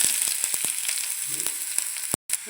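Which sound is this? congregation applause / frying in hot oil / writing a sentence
frying in hot oil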